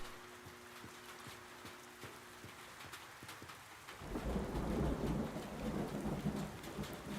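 Rain in a video game, starting as faint patter with light tapping, then swelling around the midpoint into a heavy, loud downpour drumming on metal surfaces with a deep rumbling undertone.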